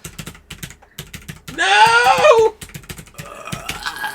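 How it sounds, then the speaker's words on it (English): Keys clatter on a computer keyboard in quick irregular bursts, broken up by a second-long whining pet cry and a short shout from a person. "There's typing."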